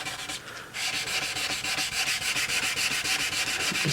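Lacquer on a resonator guitar is being sanded by hand in quick, rhythmic back-and-forth rubbing strokes. The sound is close and continuous, with no voices.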